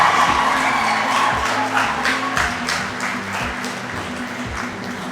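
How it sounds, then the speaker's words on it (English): Steady audience applause fills the whole stretch, many hands clapping densely and fairly loud, with a faint murmur of crowd underneath. "Let the claps come"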